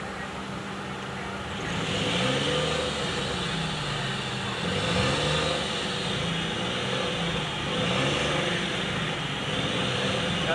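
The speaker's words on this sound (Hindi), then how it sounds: "गाड़ी अभी स्टार्ट है, कोई मिसिंग नहीं है गाड़ी में" A Suzuki WagonR engine, repaired after a cylinder 2 injector circuit fault, idles with a smooth, steady hum and no misfire, while people talk nearby over the running motor.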